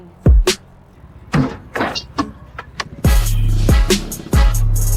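Busy road traffic with several motor vehicles nearby, loud engine bursts and revs rising and falling in quick succession, growing denser toward the end.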